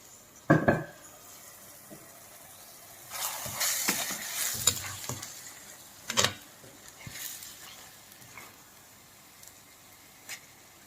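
Masala-coated fish pieces frying in an earthen clay pot for a Godavari-style fish curry, a quiet steady sizzle broken by a sharp clank early on and a few stirring scrapes and clatters.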